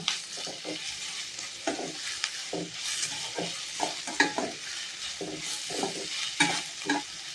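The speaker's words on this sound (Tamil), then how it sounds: "இப்போ கொஞ்சம் ஹை வச்சு நல்லா வதக்கிக்கோங்க" Potato masala sautéing over high heat in a pan, with steady sizzling and a string of short stirring scrapes and clatters at an irregular rhythm, close and fairly quiet, with no talking.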